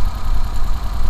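A Suzuki K6A car engine on a DA63T idles with an ignition coil unplugged while being checked for a faulty coil, a loud close steady rumble with a slightly uneven low pulse.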